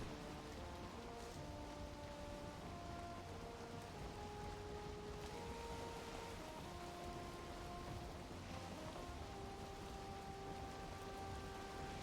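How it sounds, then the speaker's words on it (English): Steady rain hisses throughout a HellHeim game scene on plains near black forest and a shipwreck, a constant soft wash with faint sustained tones underneath. "I think this game does rain just a little bit too much."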